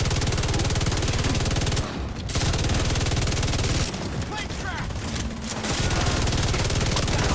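Sustained automatic gunfire in The Division 2 video game, loud and close, a dense rapid rattle broken by short pauses as a magazine is emptied, with a voice briefly heard beneath it.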